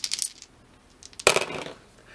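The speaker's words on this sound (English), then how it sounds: "You roll your dice." Dice rattle and clatter across a table during a Dungeons & Dragons session, one sharp tumbling roll after a few faint clicks, fairly close and with no voices over it.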